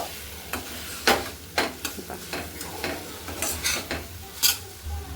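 A spoon scrapes and stirs pumpkin and coriander in a sizzling pan, with repeated uneven strokes over a low steady frying hiss, close up and without speech.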